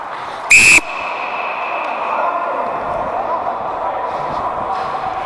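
One sharp, loud referee's whistle blast at an indoor ice hockey game, followed by steady arena rumble and faint voices.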